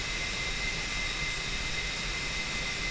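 Steady jet engine roar from an aircraft landing and braking on a runway in a flight simulator, a continuous broadband whine and rumble with no breaks.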